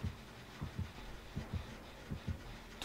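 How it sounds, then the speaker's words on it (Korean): A heartbeat from the Dead by Daylight horror game, a quiet, muffled lub-dub thumping in steady paired beats, about one pair every three-quarters of a second, with no talk over it. "두근."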